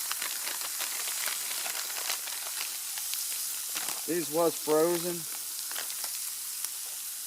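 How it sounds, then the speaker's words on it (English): Onion and bell pepper sizzle steadily in a stainless steel pan at a car camping cookout, a close, even frying hiss, with a short stretch of talk partway through. "onion and bell pepper in here to help deglaze this pan"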